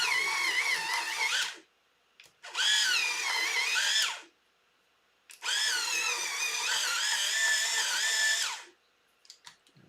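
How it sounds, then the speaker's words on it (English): A power tool sharpens broken tips while building a reverse bear trap mask: three loud, close, high whining bursts of grinding separated by short silences. "the tips will break on you, and then you have to do something kind of loud and annoying like this and sharpen it"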